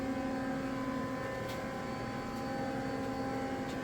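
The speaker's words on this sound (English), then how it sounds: "I'm going to run a Mazak" A Mazak SQT-200 CNC turning center with a hydraulic tailstock, rated to 5,000 RPM, hums steadily with tonal machine whine and a few faint clicks.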